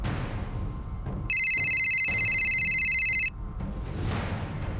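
A telephone rings in an office with a steady, bright electronic trill lasting about two seconds, loud and close, framed by quieter room noise before and after.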